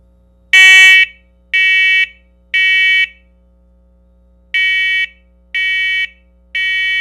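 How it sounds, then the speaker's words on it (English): Household fire-safety alarm sounding loud electronic beeps, one then two, a pause, then three more in a steady pattern, close and alone with no speech. "So that's the 4 beeps is carbon monoxide."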